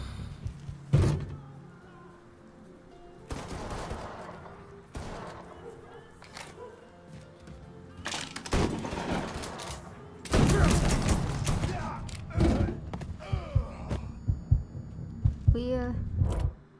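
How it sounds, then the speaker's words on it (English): Scattered gunfire in the Mafia III video game, bursts of sharp shots at irregular intervals, some near and loud, others distant, mixed with game ambience and occasional talking. "They're shooting for over there and over here."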